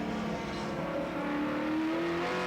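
A Holden Commodore touring car, number 6, races at Calder Park in a 1986 touring car event, its engine droning steadily and rising slightly in pitch as it holds speed.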